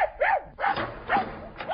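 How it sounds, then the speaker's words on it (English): A dog on a leash barks in a quick series of four sharp, yelping barks, close and fairly loud, with short gaps between them. "Have you got a strong enough leash on that dog, Walker?"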